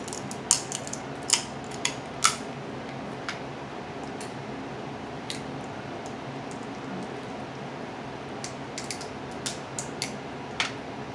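Old household scissors snip in a series of sharp, crisp cuts spaced irregularly, a few louder clicks standing out over a steady low room hiss.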